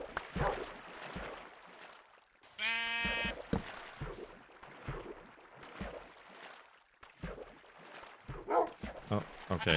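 A sheep bleats once in a Minecraft-style video game, a loud wavering cry rising above frequent speech, while a dog barks and yips intermittently nearby.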